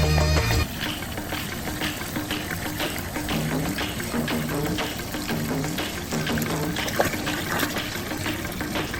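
Water poured into a cooking pot while making ghee rice, a steady continuous gush running throughout with busy kitchen clatter and background music underneath.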